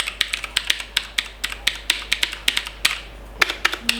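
Fingers type briskly on a cheap mechanical keyboard, producing a close, uneven run of sharp clicky keystrokes, about four or five per second, with no talking.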